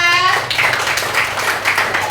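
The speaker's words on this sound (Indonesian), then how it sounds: "Tepuk tangan untuk kelompok 4." A classroom group claps for the students of group 4 after their presentation, a dense patter of many hands running steadily for about two seconds, fairly loud and close.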